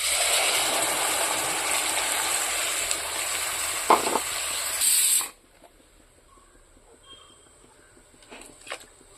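Prepared paste for dal hits a hot pan and sets off a loud, steady sizzle and hiss, close up, for several seconds with a clatter partway through, then cuts abruptly to a quiet simmer with faint scraping.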